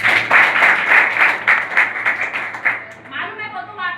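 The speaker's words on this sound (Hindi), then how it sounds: "सभी लोग एक बार अपने लिए ताली बजाओ।" Audience members at a classroom talk in Bodla, Chhattisgarh, clap for themselves: a short burst of moderate clapping mixed with overlapping voices, ending with a voice.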